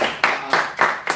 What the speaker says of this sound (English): A round of applause for the prof, please.